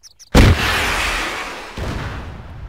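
A single loud gunshot bursts out in the Arma game Altis Life, a sharp close boom with a long rolling echo that fades away, followed by a second softer report near the end.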